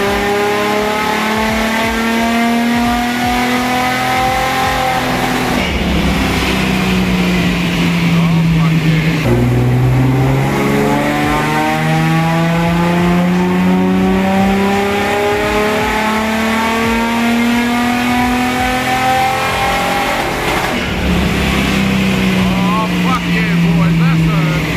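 Car engine fitted with a CNC-ported cylinder head revving hard on a dynamometer, loud and continuous, with repeated rising sweeps of engine pitch as it climbs through the revs again and again.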